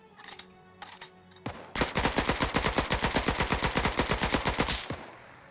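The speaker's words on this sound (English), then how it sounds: "I just got shot" A rapid, steady burst of automatic gunfire in a French Resistance campaign video game lasts about three seconds, loud and close. Sparser shots come before it.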